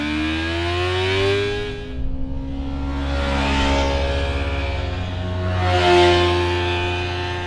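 A Kawasaki Versys-X 300 motorcycle engine revs hard and repeatedly, its pitch climbing and falling in loud, sustained waves with a rough, buzzing tone.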